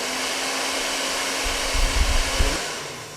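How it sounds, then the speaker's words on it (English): A fan blows heated air over a toenail during a ToeFix nail treatment, a steady close whoosh that runs throughout with a brief low rumble swelling near the middle. "the nail has to be dried using the fan for about 3 minutes"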